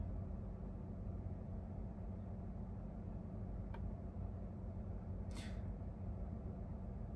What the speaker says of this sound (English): Okay, about 40 decibels just with the engine running.